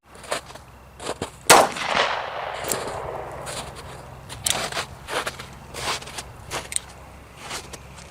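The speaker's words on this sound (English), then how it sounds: "I'm going to shoot it one more time" Several live-fire shots from a Liberator pistol ring out outdoors, the loudest crack early on, followed by a scatter of sharper pops and impacts of varying loudness over the following seconds.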